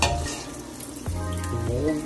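Peach Nutella egg rolls frying in hot oil, a steady close sizzle and crackle throughout, with brief clinks and bumps as pieces are moved and dropped in.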